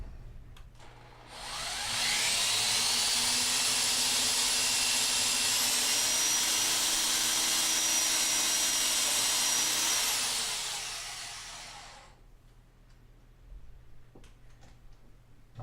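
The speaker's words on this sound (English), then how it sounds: "then I can finally commit to drilling." A drill bores holes through a wooden dance pad frame, a loud, sustained high whine that ramps up, holds for about ten seconds close by, then winds down, followed by faint handling clatter.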